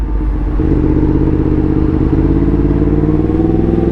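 A Yamaha MT-10 motorcycle engine runs steadily up close, a continuous low rumble with a faint mechanical clatter and no voices.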